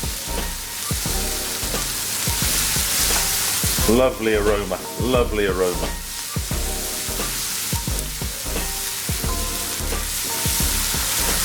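Onions, halal beef bacon and leeks sizzle and stir-fry in a wok on high heat, with steady crackling frying and repeated stirring clatter throughout; a voice speaks briefly in the middle.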